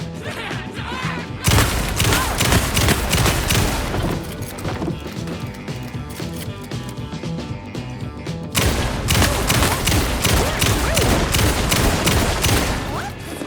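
Dense, loud rapid gunfire in the video game Alan Wake 2, with continuous shots and impacts over a tense game soundtrack.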